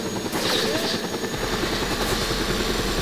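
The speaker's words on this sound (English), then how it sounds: "That's a helicopter." A helicopter in the video game Just Cause 2, its rotor thudding in a rapid steady beat with loud turbine whine, close and continuous throughout.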